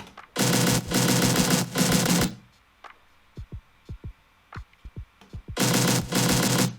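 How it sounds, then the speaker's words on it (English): A machine gun sample in an electronic music production track fires in dense, loud bursts, with a rapid, low series of thumping hits between them. "This is my machine guns, okay?"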